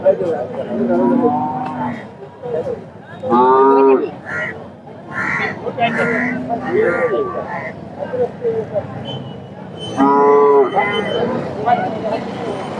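Young racing bulls bellow several times in short bursts at the Peth Vadgaon bull market in Kolhapur, amid a busy outdoor crowd, with people talking nearby between and under the calls.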